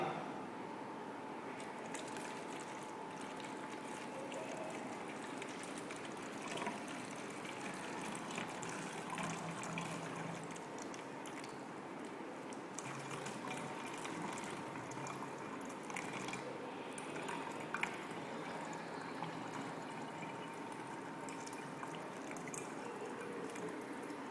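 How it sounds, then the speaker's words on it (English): A bottle is filled with water from a tap in a steady, faint, continuous trickling stream that runs unbroken throughout, with no voices. "fill the bottle up with tap water"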